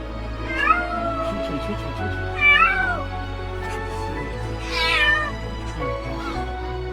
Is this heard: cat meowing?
yes